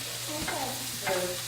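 Onions and celery fry in a pot with a steady hiss, broken by a couple of short scraping stirs.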